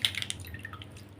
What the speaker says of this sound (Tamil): தண்ணியில் போட்டு அலசிட்டு